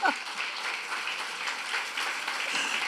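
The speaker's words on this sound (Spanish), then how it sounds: "Dele un aplauso al Señor." A church congregation applauds steadily after a sermon point, a soft, even wash of clapping that lasts the whole stretch at moderate distance.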